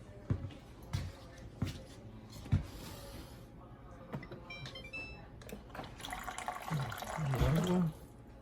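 A GE refrigerator door dispenser gives a few scattered mechanical clicks and knocks, then a short run of water pouring into a container near the end. The sounds are close and fairly quiet.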